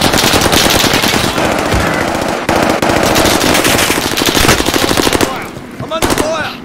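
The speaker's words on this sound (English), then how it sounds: "I'm under fire. Bullets everywhere." Rapid automatic gunfire from a video game, loud and continuous bursts of machine-gun fire with overlapping shots throughout, briefly easing near the end before picking up again.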